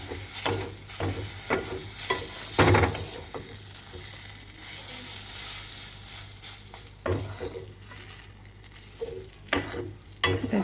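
A spatula scrapes and stirs pea kochuri filling in a wok, with irregular sharp scraping strokes over a soft background sizzle, some strokes louder and closer than others; no talking.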